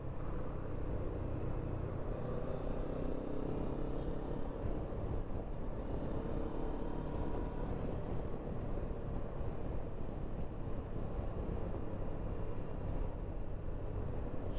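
Kawasaki Versys 650 motorcycle engine held at high RPM near 6,500 during a clutch check at a shop, a steady dense roar with wind buffeting, continuous for the whole stretch without talk.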